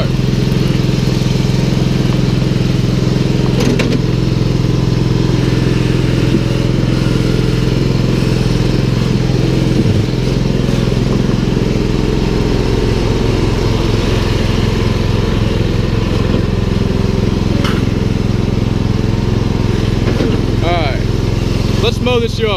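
A lawn mower engine runs loud and steady right after a cold start, a constant close drone lasting throughout with occasional clanks, under brief talk.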